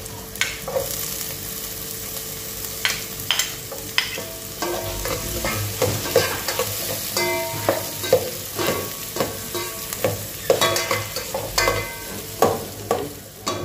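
Garlic sizzles in a hot pan for pinakbet while a utensil stirs it, making a steady frying hiss broken by frequent scraping clacks at an irregular rhythm, close and fairly loud, with no talking.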